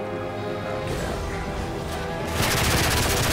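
Blind fire in Modern Warfare 3: a dense, continuous stream of rapid gunfire that swells louder toward the end, close and noisy over the game's background sound.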